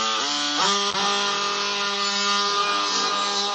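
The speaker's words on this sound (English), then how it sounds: "Grab your sawzall and get to cutting." A continuous loud mechanical buzz with steady tonal harmonics that shift pitch early on, a reciprocating saw running and cutting from below at a toilet flange without pause.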